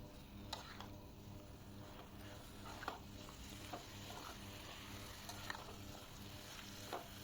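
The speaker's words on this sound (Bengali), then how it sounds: "প্রতিটা মাংসের টুকরোর সাথে যেন মশলাটা ভালোভাবে মিশে যায় সেই জন্য একটু ভালোভাবে নাড়িয়ে চাড়িয়ে নেবেন" Chicken pieces are stirred through spice paste in a pan for a chicken masala curry, giving a faint, steady sizzle broken by occasional soft spoon scrapes and clicks.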